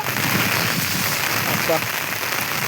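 Monsoon rain falls steadily outdoors on a hillside, a dense pattering hiss that fills the short stretch, with a voice speaking over it.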